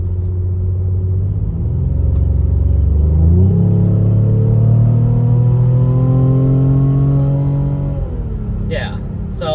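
A Mercedes-AMG GLE 43 pulling a trailer accelerates at about three-quarter throttle, its engine note rising through the gears in a deep, steady rumble. Someone speaks briefly near the end.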